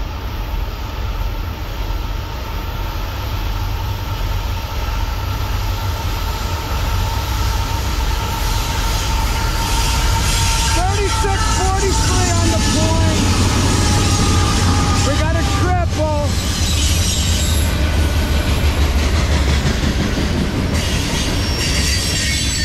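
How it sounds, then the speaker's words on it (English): A Norfolk Southern manifest freight train led by a freshly rebuilt AC44C6M locomotive rolls past at 5 a.m., a loud continuous rumble of wheels with squealing and clanking cars, and a voice briefly talking over it. "The North and Southern Manifest train"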